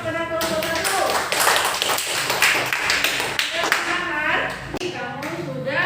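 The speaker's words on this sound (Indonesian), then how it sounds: "Nah, berikan aplaus pada kelompok 1." A classroom group claps together in a dense, lively burst of applause that stays loud for several seconds and then fades, with some voices mixed in.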